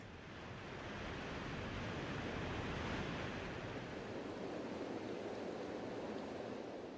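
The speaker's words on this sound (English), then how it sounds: "The rivers swallow their banks. Gigantic billows of brown water destroy everything in their way." Flooded river in high water, billows of brown water rushing over its banks: a steady, dense broadband roar that swells in the first second and then holds loud and continuous with no voices.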